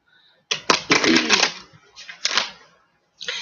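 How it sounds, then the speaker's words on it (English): Tarot cards being shuffled by hand, heard as a few quick bursts of papery riffling and snapping, close and fairly loud, separated by short pauses. "while I'm sitting here shuffling these cards"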